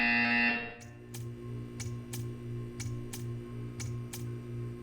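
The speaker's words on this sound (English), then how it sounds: "You will hear a buzzer." A short electronic buzzer tone from Portal 2 sounds repeatedly at a steady pace, roughly every 0.6 seconds, over a low hum and background drone.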